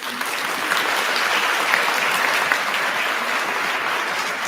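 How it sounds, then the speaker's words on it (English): An audience at a 2022 middle college graduation ceremony applauds steadily and densely, a loud, even wash of clapping hands from a large crowd with no voices above it. "Initially, one person applauded"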